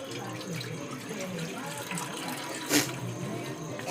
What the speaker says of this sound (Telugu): ఇప్పుడు మళ్ళీ స్టవ్ ఆన్ చేసుకొని దీంట్లోనే కొంచెం నీళ్ళు పోసుకోవాలి.